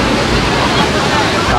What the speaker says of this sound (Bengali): সমুদ্রের মানে জোয়ারের সময় যা হয় আর কি, এত ঢেউ